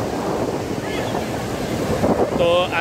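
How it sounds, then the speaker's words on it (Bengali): Evening wind and crashing surf at Marina Beach in Chennai, a dense continuous roar with heavy wind buffeting the microphone and faint tonal sounds near the end. "কাল বাতাসের শব্দ"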